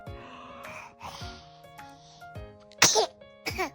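Close, high, sharp bursts from a baby sneezing, two strong ones near the end after softer snorts and breaths, in a quiet room.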